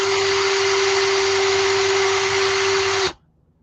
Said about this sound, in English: drill a little hole straight through it